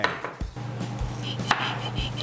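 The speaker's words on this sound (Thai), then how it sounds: "เสร็จแล้วเราก็จะหั่นกระเทียมกับพริกนะครับ" A knife chops garlic and chili peppers into small pieces on a cutting board for a Thai dish, about five or six sharp, fairly close chops, unevenly spaced over steady low background hum.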